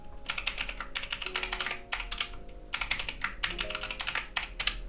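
Rapid clatter of keys on a computer keyboard as a Linux password command is entered, in bursts with short pauses, close and clear over a soft low hum and faint background music.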